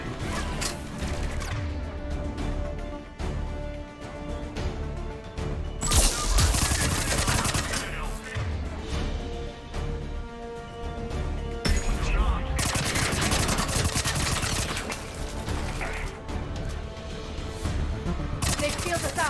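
Rapid, dense gunfire from the sci-fi video game Mass Effect, loud and continuous bursts layered over music and other combat effects throughout, with occasional heavier crashes.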